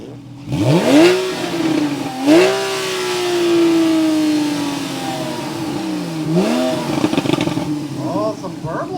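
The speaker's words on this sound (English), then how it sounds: "some burbles from a stock exhaust" A Porsche on its stock exhaust is revved repeatedly at a car show, with rising and falling engine sweeps and crackling burbles on the overrun, loud and close, while people talk nearby.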